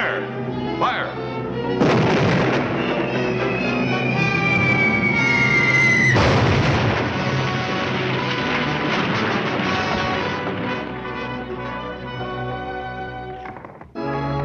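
Cartoon artillery cannons in a Looney Tunes army short fire in a loud burst of booming blasts amid a busy orchestral score, with a whistling shell sweep and voices shouting commands.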